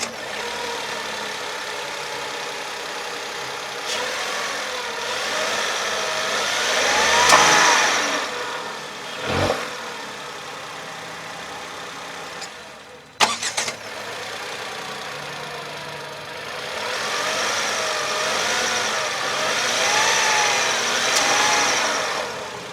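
Tata Punch three-cylinder petrol engine running at a steady idle, a moderately loud, even hum that holds throughout with a brief louder blip near the middle and no talking.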